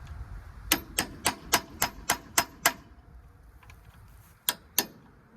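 Hammer and chisel striking a rivet on a 1958 GMC 100 cab mount, eight sharp metallic blows in a quick even rhythm, a pause, then two more hits, close and loud.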